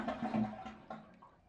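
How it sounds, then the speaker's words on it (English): A Toto toilet with its water supply shut off and a worn-out flapper flushes in a brief close gurgling rush of water that quickly fades, with no tank refill afterward. "And now when I flush, the tank won't fill up afterwards."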